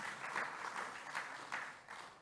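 An indoor audience applauds the mayor of Lorient with steady, moderately distant clapping that swells and fades slightly across the whole stretch.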